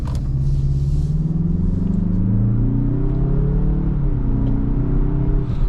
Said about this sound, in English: Off the line, you know, these Mazda turbo engines are just such a treat